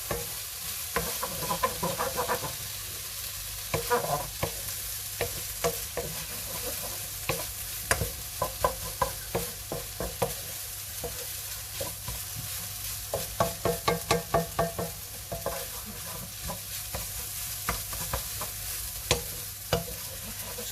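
Pad Thai noodles with egg are stir-fried in a pan: a continuous sizzle broken by many sharp, rapid clacks and scrapes of a utensil, close and busy, with no talking.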